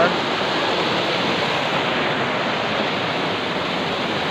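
A small river running high in flood, a dense, steady roar of rushing water that stays loud and unbroken throughout.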